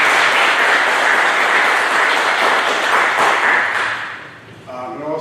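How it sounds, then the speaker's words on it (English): Loud, dense applause from an audience at a Veterans Day celebration, holding steady for several seconds before tapering off as a voice begins to speak. "Kiana, give her another round of applause."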